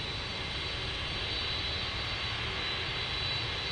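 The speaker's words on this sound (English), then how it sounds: "do you like that engine noise okay?" A Boeing 747-8 jet at DFW airport produces a steady, loud roar of engine noise, a continuous broadband rumble with no breaks.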